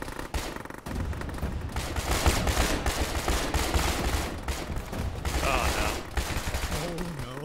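Dense gunfire in a ShackTac military game firefight, with rapid crackling bursts and overlapping shots at a steady moderate loudness, plus brief radio-style voices mixed in.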